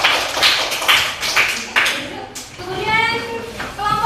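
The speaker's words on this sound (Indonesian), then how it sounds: "Beri tepuk tangan untuk teman-temannya." Schoolchildren in a classroom clap for their classmates in a quick run of close, crisp claps, followed by children's voices chanting and talking.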